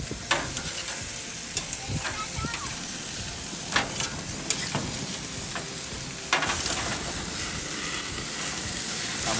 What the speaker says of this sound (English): I'm gonna baste it with the juices.